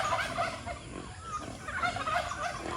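A flock of free-range chickens on a farm under coconut trees, with busy overlapping clucks and squawks at close range that fill the whole stretch without any talking.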